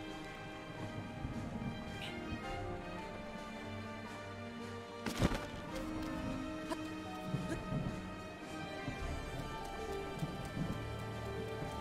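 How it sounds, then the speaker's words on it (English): Video game thunderstorm with steady rain hissing throughout and one sudden loud thunder crack midway, followed by low rumbling, heard alone with no voices. "Thunderstorm here, of course."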